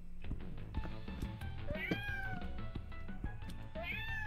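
Kittens in a video game mew repeatedly in short, high calls scattered over a steady bed of game music and background sound.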